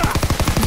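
Rapid automatic gunfire in the World War II shooter game Call of Duty WW2, a quick run of about eight evenly spaced, close, loud shots in under a second.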